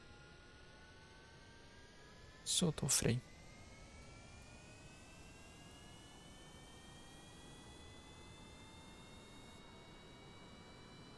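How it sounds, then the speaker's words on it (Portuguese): An airplane engine running after startup in a flight simulator game gives a steady, moderate whir with rising tones throughout, while someone speaks briefly near the start. "Motor ligou."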